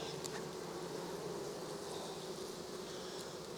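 Honeybees buzzing around an open hive during a first spring hive check, a soft continuous drone of many insects with a few louder passes close by.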